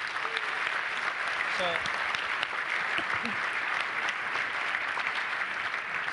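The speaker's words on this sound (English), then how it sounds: "How about a round of applause for the initiative?" Steady applause from a dinner audience at a charity foundation event, a dense, even wash of many hands clapping throughout, moderately loud and uninterrupted.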